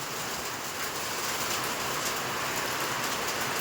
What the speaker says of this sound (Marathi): मोठ्या गारा यायला लागल्या